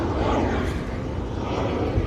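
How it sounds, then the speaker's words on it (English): An airplane passes overhead outdoors by a sunny poolside, a steady broadband engine roar that swells slightly and holds throughout without clear peaks. "Y'all hear that plane?"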